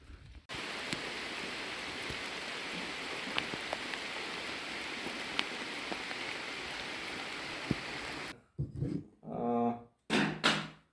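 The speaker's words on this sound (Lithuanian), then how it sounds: "kadangi šiandien laukia truputį lyja" Light rain falls steadily outdoors as a dense, even hiss with scattered drop ticks for about eight seconds, then cuts off abruptly and a few short bursts of other sound follow.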